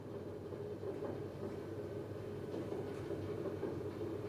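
A train wagon rolling steadily along rails, a continuous low rumble with faint rhythmic rattling, constant and moderately close, with no talk.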